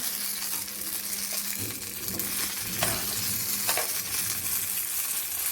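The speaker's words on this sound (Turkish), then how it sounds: "Bunlar kızarıyor." Eggplants frying in hot oil in a pan for karnıyarık, a steady close sizzle with occasional stirring and crackling, no talk.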